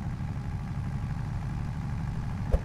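A tractor engine idles steadily in the Farming Simulator game, a constant low drone with a small click near the end and no talking.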